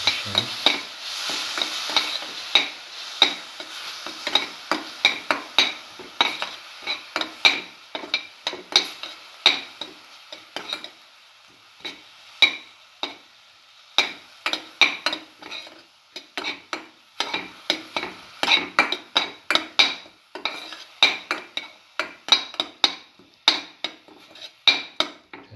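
Shallots sizzle in a hot pan for a chicken liver coconut dish while a utensil scrapes and clatters against the pan, with irregular stirring knocks over a steady frying hiss.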